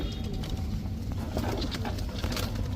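Pakistani teddy highflyer pigeons coo nearby in soft, repeated low calls over a steady background hum, with no clear speech.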